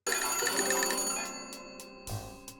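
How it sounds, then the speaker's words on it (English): Telephone ringing in an Ed Edd n Eddy cartoon, a bright bell-like ring that sounds loudly and then trails off into short repeated chirps, alone without talk. "the cursed phone keeps ringing"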